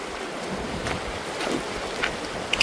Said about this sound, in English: So this is Mission Creek.